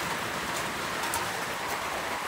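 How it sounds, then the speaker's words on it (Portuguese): Heavy rain pours down steadily, driven sideways by the wind, making a dense, continuous hiss that stays loud and even throughout with no voices. "a chuva começou a vir de lado. Começou a vir da direita pra esquerda."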